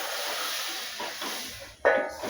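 Chopped onion hits a hot spice mix in a home kitchen, giving a steady broadband hiss of sizzling with a sharper, louder burst near the end as the pieces land in the pan.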